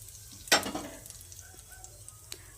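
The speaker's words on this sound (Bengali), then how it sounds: "আমি এখানে জিরে, শুকনো লঙ্কা ফোড়ন দিয়ে দিলাম" Cumin, dried chilli and bay leaf drop into hot oil left from frying fish, giving a sharp burst of close sizzling that fades into a quieter crackle with a small clink of utensils.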